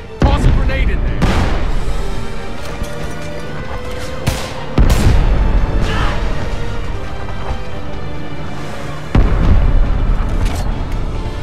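A grenade goes off in the war video game Homefront with a heavy close boom, followed by more booms, gunfire and rubble through loud continuous battle noise, with soldiers shouting.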